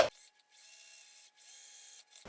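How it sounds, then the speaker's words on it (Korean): A sewing machine stitching the double-folded hem of a garment, two short runs of steady mechanical whirring with a brief pause between, close and fairly quiet. "밑단 박아주세요."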